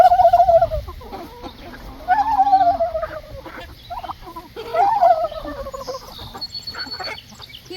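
A male tom turkey gobbles loudly close by in three distinct rattling bursts, with quieter clucking and farmyard noise in between.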